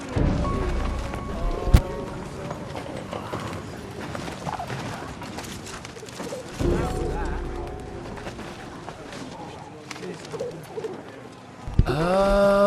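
A pigeon coos and flutters in the World War I game Valiant Hearts, with game sounds and a voice talking over it, and a sudden rustling burst near the end.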